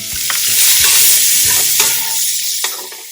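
Sliced red onion fries in a pan over medium-low heat, a loud close sizzle with crackling and a few clicks of a utensil stirring, fading a little toward the end.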